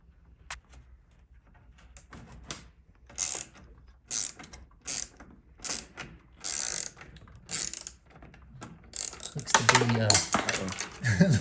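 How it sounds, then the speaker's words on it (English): A Torx T25 wrench works bolts loose from a Ford Bronco two-door grille, giving repeated bursts of metallic ratcheting clicks separated by short pauses, close to the microphone, with some talk mixed in. "we're gonna find us a Torx wrench real quick and see if we can get that out"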